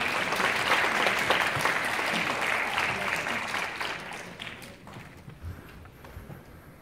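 An auditorium crowd claps loudly and steadily at a Suwon taekwondo demonstration team festival in Onnuri Art Hall, a youth culture centre. The applause thins and fades out over the last few seconds.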